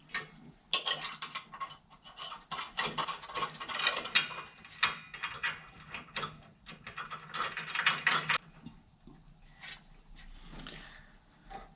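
Ratchet clicks in irregular bursts while bolts are tightened on a Toyota Starlet 4E-FE bonnet latch bracket made of 4mm hot rolled steel strip, close and fairly loud with short pauses, no talking.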